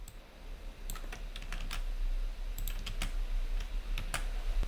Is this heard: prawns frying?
no